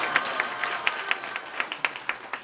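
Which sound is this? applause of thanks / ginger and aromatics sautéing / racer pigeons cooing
applause of thanks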